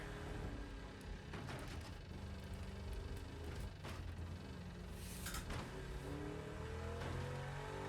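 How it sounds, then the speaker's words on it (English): A damaged car engine with a wrecked radiator, sputtering and revving in the racing game Wreckfest 2, a loud continuous rough drone with uneven surges and knocks, no talk. "My engine's just spitting and sputtering at me."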